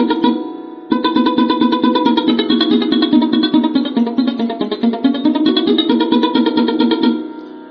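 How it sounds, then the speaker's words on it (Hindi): A sarod played with the fingertips rings out in a fast, dense run of plucked notes, loud and close, with a steady pulsing rhythm and a drone underneath, unaccompanied by speech. "तो ये फिंगर टिप की आवाज है।"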